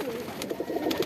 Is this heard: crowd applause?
no